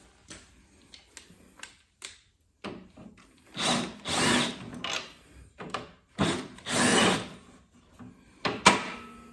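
Power drill backing screws out of the plastic cover on a Toro 721 R snowblower, several short whirring bursts with pauses and handling clatter between, close and moderately loud.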